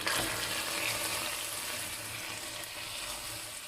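Water added to hot caramelized sugar in a pan gives a strong, steady sizzle, a bright, continuous hiss that fades slightly over a few seconds.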